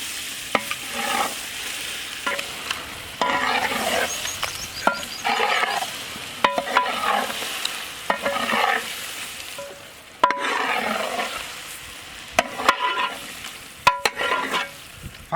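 Goat brain fry being stirred with black pepper, all-spice and garam masala in a pan, with repeated scraping strokes and clinks over a steady sizzle, close and fairly loud, no voices.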